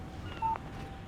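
A short electronic text message alert on a phone in Alan Wake Remastered: one brief tone, faint over a low ambient game background.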